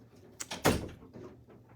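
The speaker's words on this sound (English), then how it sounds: "He opened the door and then he slammed it shut." A door is pulled open and then slammed shut, a short scrape followed by one loud, close thud and a brief rattle as it settles, with no talk.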